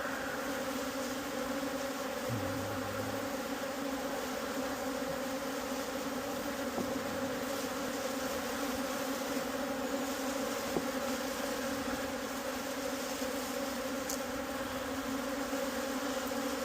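Honey bees buzz steadily around an opened hive at Savanna Apiary, a dense continuous drone heard up close with no talking.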